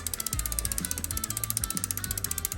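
Tektro mechanical disc brake adjuster on a bicycle clicking in a rapid, steady series of close, sharp ratchet clicks, loud and alone.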